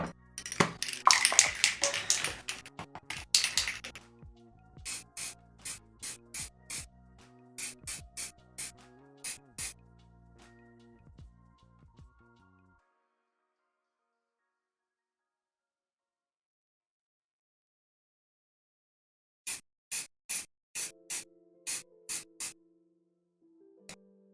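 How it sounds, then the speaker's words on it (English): Varnish sprayed from a can onto a plastic scale model: a few seconds of dense, close hissing spray bursts, followed by quieter scattered clicks and light taps. "Time to varnish this and decal it."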